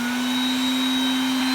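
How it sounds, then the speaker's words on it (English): A bee vacuum runs with a loud, steady whine and a strong constant hum, close to the microphone and unbroken throughout. "what I'm going to do is I'm going to turn this on and I'm going to close this a little bit"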